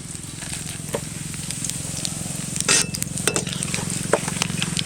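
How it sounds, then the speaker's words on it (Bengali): Cumin, dry chillies, bay leaf and whole garam masala tempering in hot oil in a kadai, a dense close sizzle and crackle with spatula scrapes and a low hum beneath. "তেল গরম ফোড়নে দেবো জিরে শুকনো লঙ্কা তেজপাতা আর গোটা গরম মশলা"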